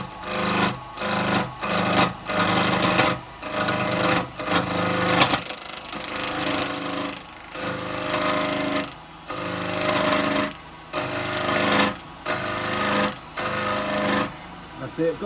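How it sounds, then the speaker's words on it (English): A gouge cuts a yew bowl spinning on a wood lathe, making a loud, rough, grinding scrape in repeated passes with short breaks between strokes. "I've got to be careful because this gouge can take a lot of wood off"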